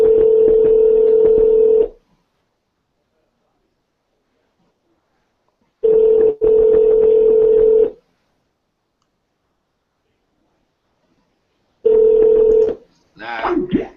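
A phone call rings out unanswered: three long ringback tones spaced by silences of about four seconds, loud and close, followed by a brief voice at the end.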